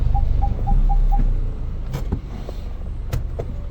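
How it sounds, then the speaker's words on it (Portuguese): A car on a road trip: close interior engine and road rumble, opening with five quick electronic beeps, then the drone eases lower as a few knocks and clicks sound. "Viagem de carro, viajando."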